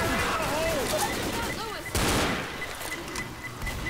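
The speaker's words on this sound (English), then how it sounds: "Pipe bomb." Gunfire and explosions rumble together in the Left 4 Dead video game as a pipe bomb goes off, a dense, continuous loud mix with a heavier burst near the middle and game sounds throughout.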